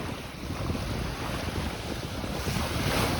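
Lake waves wash onto a small-pebbled rocky beach at the Scarborough Bluffs in Toronto, heard as a steady, loud broadband rush mixed with heavy wind buffeting the microphone, with no voices.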